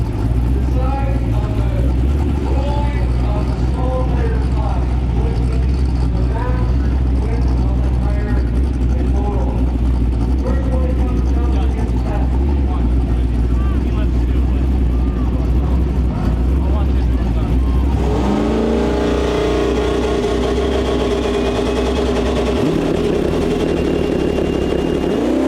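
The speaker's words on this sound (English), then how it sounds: "James's Camaro is deadly fast, but so is Derek's Challenger." A Chevrolet Camaro and a Dodge Challenger drag race at Interlake Dragway, their loud engines roaring and shifting under continuous commentary, with the engine pitch changing sharply near the end.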